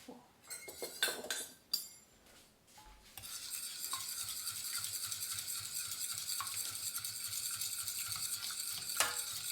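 Fork working through palet breton cookie dough in a bowl, with scattered clinks and scrapes of metal on the bowl at first, then a steady, close, moderately loud scraping and stirring texture that continues to the end.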